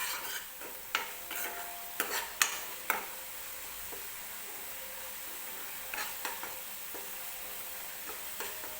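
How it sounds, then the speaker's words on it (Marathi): Chopped onion frying in oil in a pan for a chicken gravy, giving a steady soft sizzle with a spatula stirring and clinking against the pan now and then, close up, with no talking. "कांदा छान भाजून घ्यायचा आहे तेलामध्ये"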